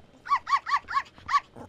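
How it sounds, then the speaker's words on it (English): A dog in the Bratz Rock Angelz PC video game gives a quick run of five or six sharp, evenly spaced barks with a growling edge, loud and close with no talk over them. "Would you please control your fat mutt?"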